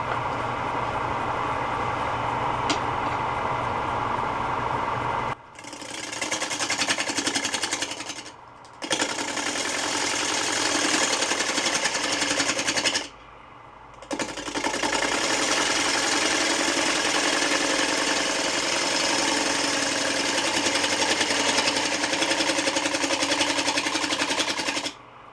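Wood lathe spinning at 680 RPM as a half-inch spindle gouge cuts the workpiece, a loud continuous hissing, scraping roar broken by a few brief pauses, with no talking.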